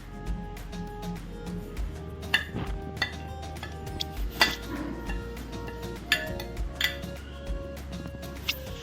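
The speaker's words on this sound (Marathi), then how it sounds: "सगळं एकजीव करून घेऊया आणि आपलं मग पुरण तयार होईल" A spoon scraping and clinking against a pan while stirring a sweet coconut and sesame filling, with irregular metallic taps and rattles close up and a faint voice underneath.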